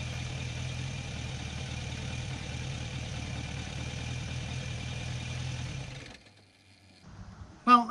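A motorbike engine runs steadily after a carburettor adjustment, idling with an even low throb. It cuts out around six seconds in, and a short loud burst of sound follows near the end.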